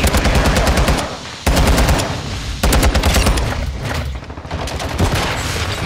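Loud bursts of automatic pistol fire in Call of Duty: Modern Warfare II, rapid close shots in several sustained strings broken by short gaps, with no speech.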